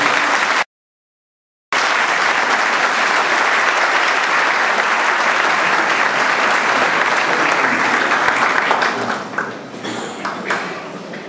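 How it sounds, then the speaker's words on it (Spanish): Sustained crowd applause at a cultural society ceremony in Ciudad Madero fills the hall, loud and dense, briefly cut off by a gap near the start, then resuming before tapering into scattered claps. "Recibimos con un fuerte aplauso a nuestro secretario."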